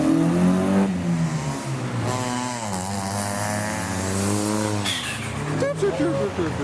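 JDM cars, including an S14, pull out of a slippery 2022 car show, engines revving in rising and falling sweeps close by, one after another.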